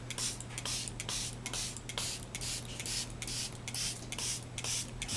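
Glue is sprayed onto model ground cover for a miniature dirt road, a quiet series of short, rhythmic hissing bursts repeating about every half second over a faint background hum.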